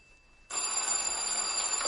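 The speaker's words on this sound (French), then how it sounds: "cette fois, c'est le téléphone" A telephone begins ringing abruptly after a faint tone, its steady bright electronic trill continuing loud and unbroken to the end, with no voices.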